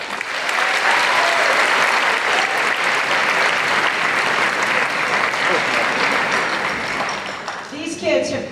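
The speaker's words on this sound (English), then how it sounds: "Let's give them a round of applause." An audience at a middle school band concert claps for the young percussionists, a sustained, dense wave of applause that fades slightly near the end.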